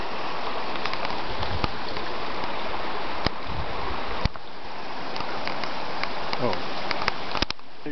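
Small brook flowing along the Waimea Canyon hiking trail on Kaua'i, a steady close wash of water with scattered clicks and knocks, heard alone.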